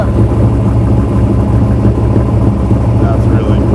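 Big block V8 in a Ford Ranger luxury pre-runner idling steadily after starting, a loud, deep rumble filling the whole stretch without break, with a talking voice faintly under it.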